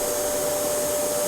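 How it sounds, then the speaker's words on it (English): A Dyson DC07 Allergy vacuum cleaner runs with a steady, loud, continuous motor whine and airflow roar, close by and uninterrupted. "Now I'm just going to vacuum."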